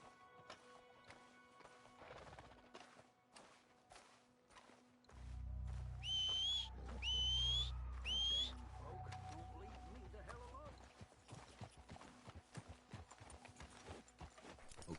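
Horse hooves clip-clop in a steady rhythm in Red Dead Redemption II, close and fairly loud, joined midway by a deep rumble and whistle-like tones, with voices talking.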